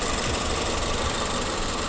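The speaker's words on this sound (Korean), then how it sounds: "엔진 소리 일정하네요" Engine of a Jaguar XF (X260) 25t Prestige running steadily with the engine bay open, a constant even hum and rumble without change throughout the short stretch.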